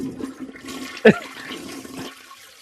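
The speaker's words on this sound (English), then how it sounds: "We'll wait for that one to be done. It has to flush." A toilet flushes once, a short gurgling rush of water with a sharp surge in the middle before trailing off, heard close and alone.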